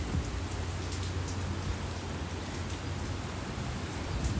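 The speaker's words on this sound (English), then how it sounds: "She's playing in the rain." Steady rain from Hurricane Beryl pours down in a dense, even hiss close by, with no talking.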